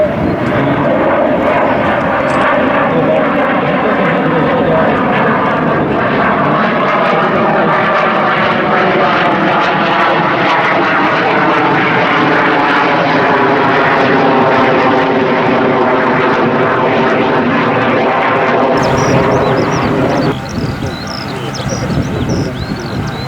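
A loud CASA 295 propeller airplane roars steadily close by for a long stretch while landing with gear down and full flaps, engine drone dominating, then the noise drops off near the end.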